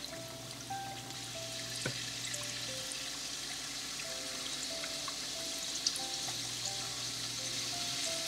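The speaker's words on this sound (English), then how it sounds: "I've placed a few neuris in the spider skimmer and I'm going to immerse it in the hot oil." Layered neuris (gujiya) held in a spider skimmer fry in hot oil, making a steady bubbling sizzle with occasional sharp taps and a low steady hum in the background; no one speaks.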